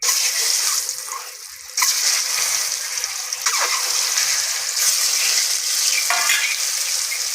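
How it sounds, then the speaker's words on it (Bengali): Boiled eggs fry in hot oil with salt and turmeric, giving a loud, steady sizzle and spatter up close, broken by a short dip and occasional stirring scrapes, with no voices. "উল্টিয়ে পাল্টে ভালো করে লাল লাল করে ভেজে নেব।"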